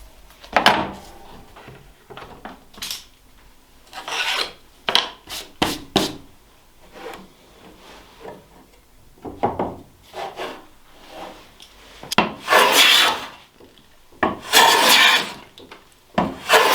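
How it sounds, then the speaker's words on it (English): A hand plane works over the surface of a wooden guitar neck blank in uneven scraping strokes and rasping passes, separated by pauses and small wooden knocks, close and without speech. "We just prepared the surface and planed it flat."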